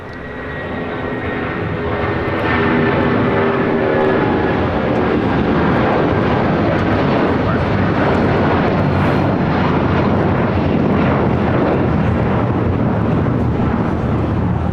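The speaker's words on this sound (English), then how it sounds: "Another 757 getting ready to take off to Houston Intercontinental flight 2495 with United." A United Boeing 757 bound for Houston Intercontinental spools up on the runway at LAX. Its engines climb from a rising whine into a loud, sustained roar that holds steady and close for the rest of the stretch.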